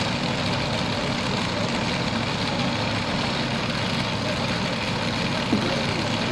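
A 4,500-horsepower pulling truck engine roars steadily at a truck and tractor pull, a dense continuous drone with no letup and no talk over it.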